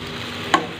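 Whole spices, including panch phoron, dried chillies and coriander seeds, fry and get stirred in a pan while cooking Bengali shukto, giving a steady low sizzle with one sharp scrape or clink midway.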